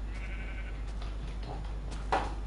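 Sheep in Minecraft give a short bleat near the end of a quiet stretch, with a few faint clicks and a steady low hum underneath.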